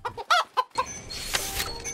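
A hen clucks in a short run of close, distinct calls, followed by a brief burst of broadband rustling or hiss.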